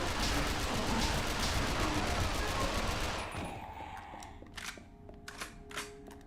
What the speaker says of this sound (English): I'm gonna waste all the ammo in this weapon